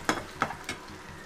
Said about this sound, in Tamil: வெங்காயம் நல்லா வதங்கிட்டுருக்கு